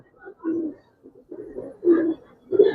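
Young Giribaz pigeons coo in short, throaty bursts, roughly four or five separate low calls with quiet gaps between them, close and fairly soft, without any talking.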